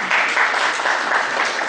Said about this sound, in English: Members, big applause.